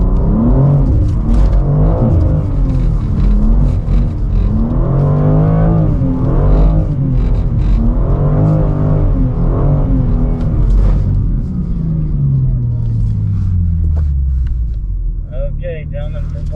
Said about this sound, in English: today we are out in the BMW M2 and we are on a skid pad out here at the BMW driving school.